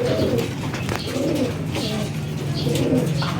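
Pigeons coo in repeated low, throaty phrases inside a loft holding young squabs and a blue bar pigeon, close and steady with a faint background hum.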